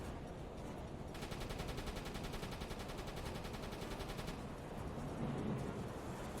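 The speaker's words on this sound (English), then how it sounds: "Very nice salvo." A naval gun salvo fires in the submarine game UBOAT: a rapid, sustained run of loud, evenly spaced shots rattles for several seconds amid rumbling background noise, then stops.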